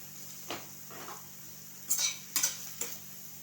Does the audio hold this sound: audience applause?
no